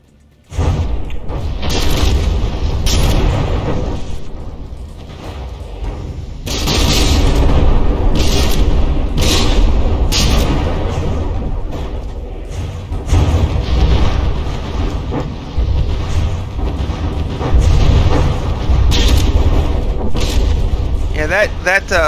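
Heavy naval guns from a battleship fire in the From the Depths game, with repeated loud booming blasts close together and a dense mechanical roar between salvos.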